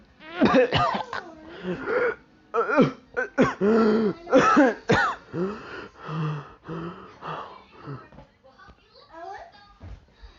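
Harsh, strained coughing from an anime fighter who was slammed hard into a wall, mixed with gasping, throat-clearing vocal bursts that come in close, loud clusters with brief pauses.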